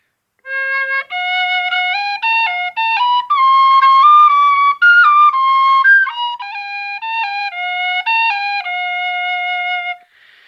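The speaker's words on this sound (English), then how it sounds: "And now here it's played on a C whistle." A short tune on a C whistle, clear piping notes rising and falling in a steady, bouncy phrase, heard up close and alone.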